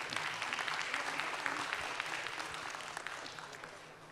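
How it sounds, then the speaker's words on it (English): An audience at a main session of the 61st Annual ISNA Convention applauds, a full, continuous roar of clapping from a large hall that holds steady and then slowly fades toward the end. "You can applaud now."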